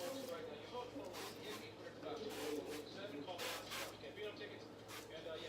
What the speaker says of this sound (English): I'm just going to spray olive oil on them